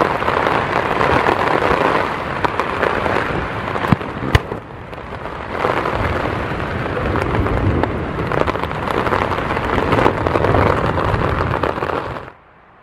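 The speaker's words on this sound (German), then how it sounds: "es regnet ordentlich" Heavy rain driven by gusty wind in a forest beside a tipi tent, a loud dense roar of drops that swells and eases in waves, with a couple of sharp knocks midway and an abrupt cutoff at the end.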